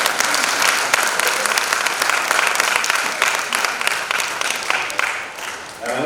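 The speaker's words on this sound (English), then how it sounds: "give a big round of applause for all the fine gentlemen sitting here" Sustained applause from an audience seated at a formal gathering, dense and steady clapping that carries throughout and fades slightly near the end.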